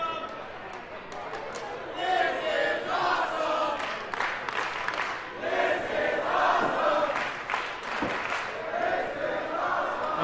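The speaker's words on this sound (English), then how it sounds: "You can hear the crowd." A wrestling crowd at a Future Stars of Wrestling event cheers and roars in swelling waves, loud and sustained, with commentators talking over it.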